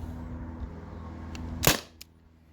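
A single sharp pneumatic shot from a modified gas-powered T4E TR50 marker firing homemade slugs, a crisp close pop with a faint click after it over a quiet background.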